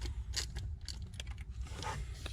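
Faint metallic clicks and ratcheting come from a socket and short extension as bolts are removed from the intake manifold of a 2013-2018 Ford Edge 2.0L EcoBoost engine, with scattered taps and small rattles.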